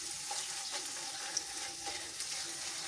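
Minced meat frying with golden-fried onions in a pan, a steady close sizzle with soft scraping stirs now and then, no voices.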